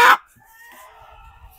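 A sick farm chicken, weak and barely walking after injections failed, gives one short loud squawk that falls away to faint, thin clucking sounds at close range.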